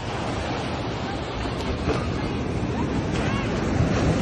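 Surf at a beach rolls and washes continuously with a rumbling, windy roar, waves breaking steadily nearby.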